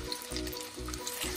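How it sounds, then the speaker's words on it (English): A boiled potato fries in a pan over a raised flame with crisped curry leaves, giving a steady close sizzle with soft periodic low thumps as it is moved about. "I'm just going to fry the potatoes until I see a slight brown color on both the sides"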